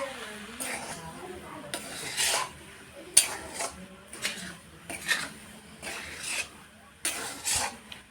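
Coconut mixture for white Bengali narkel naru stirred in a pan, with repeated scraping and clinking of a utensil against the metal in uneven bursts, close and moderately loud.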